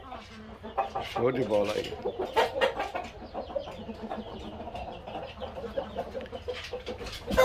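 Roosters and hens cluck and call around a breeder's coop on a quiet Sunday, with someone talking over the birds throughout.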